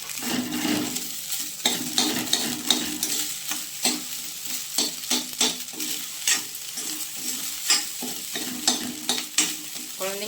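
Spoon scraping and stirring drumstick leaves through cooked samai rice in a pan, a steady run of close scrapes and soft clatter over faint sizzling.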